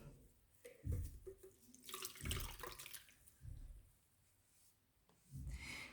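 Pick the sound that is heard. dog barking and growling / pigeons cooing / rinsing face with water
rinsing face with water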